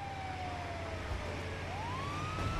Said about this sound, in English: good work getting the ambulance